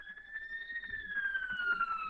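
An ambulance siren wails outside, a single clear tone sliding slowly downward as the vehicle passes, moderately distant and steady over faint background room noise.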